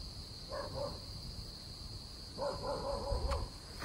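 A dog barks a couple of times at a distance in a forest, then a longer run of yelping barks follows, over a steady high electronic whine.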